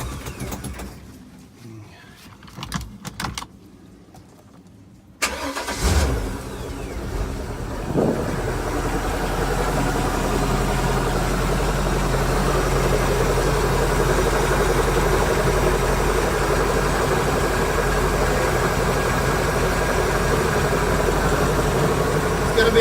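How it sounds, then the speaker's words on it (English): A Volvo Penta 5.7 SX boat engine with a power steering problem cranks and starts after a few seconds of quiet handling noises, then settles into a loud, steady idle that runs continuously to the end. "next I'm gonna start the motor and let it run and turn the steering back and forth"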